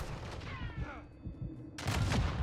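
Hip-fire gunfire in the mobile shooter game Warzone Mobile: a burst of rapid shots breaks out near the end after quieter stretches, loud and close, with a voice talking in the early part.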